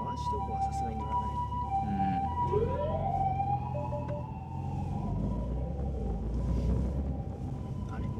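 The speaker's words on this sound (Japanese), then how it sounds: "救急車、 救急車でございます。" An ambulance siren wails past the road while riding in a car at night in Tokyo, its rising and falling tone fairly clear over steady road rumble, with people talking in the car.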